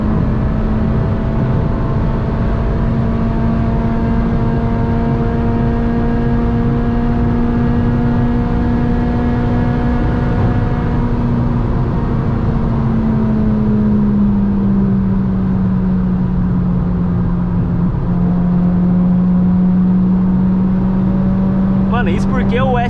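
Honda Civic Si with a naturally aspirated 2.0 engine accelerating hard, with an Amarok V6 following behind: a loud, sustained engine drone heard from inside the car that holds steady, then its pitch dips briefly and steadies again.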